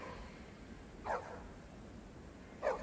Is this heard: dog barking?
yes